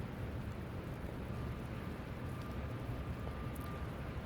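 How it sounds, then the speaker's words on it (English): Steady rain falls outside in a continuous, even hiss with dense low rumble and no distinct drops, a faint high tone drifting through the middle. "and watch the rain fall."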